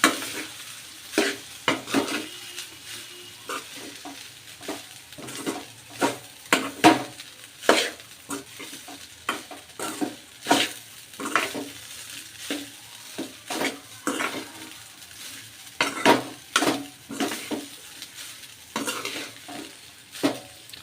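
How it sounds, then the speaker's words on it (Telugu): A spoon stirs rice through a pot of jeera rice in a rhythmic series of close scraping strokes, repeated steadily over a light sizzle. "ఇప్పుడు రైస్ వేసుకుందాం ఇప్పుడు కలుపుకోవాలి"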